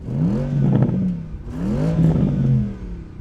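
Two smooth Porsche Panamera engine revs swell and fade, the pitch sweeping up then settling back, steady and fairly close with no voices, during a drag race.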